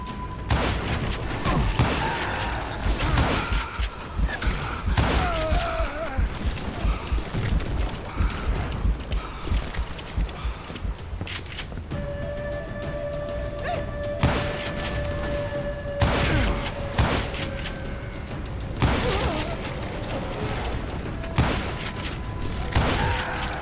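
A gunfight in Call of Juarez: Gunslinger, with repeated loud gunshots cracking in bursts and rapid volleys over a busy rumbling background, continuing throughout.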